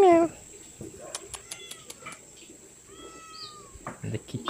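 A cat meows several times in a 1970s Iban longhouse at Julau, Sarikei, with short harmonic calls spaced across the clip over a quiet room with faint background chatter.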